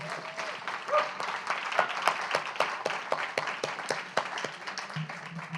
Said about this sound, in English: One more round of applause for Edgar Kunz.